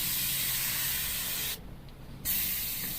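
An airbrush spraying paint onto a beginner Minion figure makes a steady, close, loud hiss that drops out briefly near the middle and then resumes, with no talking.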